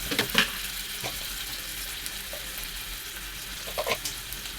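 Spices, coriander and thyme frying with garlic in a hot pan, a steady close sizzle with a few brief louder crackles and stirring bursts, no voices.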